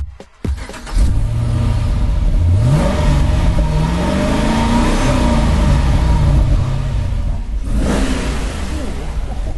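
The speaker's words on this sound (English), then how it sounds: "Here's the sound of Richard's car once again." A car engine revs hard and close, climbing and falling in pitch through several loud sweeps before easing off near the end.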